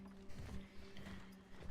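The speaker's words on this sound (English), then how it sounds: "I hear little footsteps." Faint, light footsteps in the horror game Cronos: The New Dawn, a few soft, uneven thumps pattering quietly against a dim background hum.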